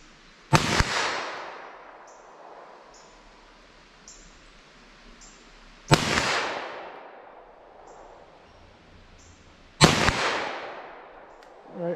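Three sharp 9mm pistol shots with Norma NXD ammunition, fired toward a target 50 yards away outdoors, each crack loud and spaced several seconds apart with a ringing tail that fades before the next.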